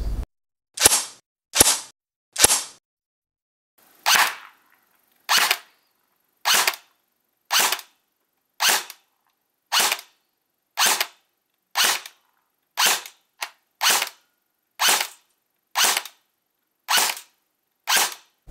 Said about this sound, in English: we're going to get an FPS reading on the gun with all the stock components installed